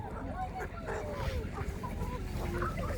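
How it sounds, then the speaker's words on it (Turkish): A rooster crows and clucks close by, its calls rising and falling while people talk over it. "Büyük horozumuz bu"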